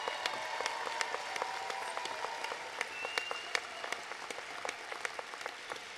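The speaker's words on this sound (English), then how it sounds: "I was going to say give them an enthusiastic round of applause, but you've already done that" A law school commencement audience applauds continuously with dense, even clapping that holds at a steady level, with crisp individual claps standing out.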